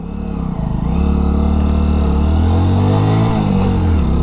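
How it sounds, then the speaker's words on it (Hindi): A 2023 Hero Passion+ motorcycle engine revs up under hard acceleration, a loud buzzing note that climbs in pitch and holds steady as speed builds, with no talk over it. "चलिए इस बाइक को थोड़ा तेज़ चला कर देखते हैं कि तेज़ चलाने में बाइक कितना जो है स्पीड बना पाती है"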